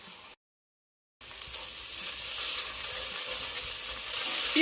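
Tomato paste sizzling as it fries in a pan for lentil soup, a steady close crackling hiss that briefly drops out, then returns and grows slightly louder.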